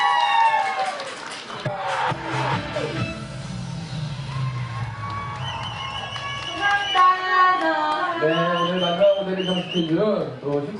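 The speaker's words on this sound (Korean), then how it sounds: "박수 부탁드리겠습니다." A crowd cheers and claps for a K-pop girl group stage performance at a Milliore fancam event, lively and fairly loud beneath an amplified host's voice speaking over it.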